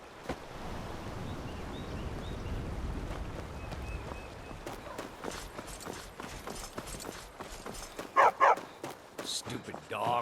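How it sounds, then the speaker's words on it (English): In the video game Skyrim, a dog barks in a few quick, close yaps near the end, following footsteps and scattered movement sounds. "Stupid dog."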